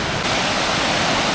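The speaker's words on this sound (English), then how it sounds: "You can even stop and have a look at the waterfall halfway along without wobbling." Waterfall in Mondulkiri, Cambodia, heard from a footbridge partway along: a steady, close, loud broadband rush of falling water with no break.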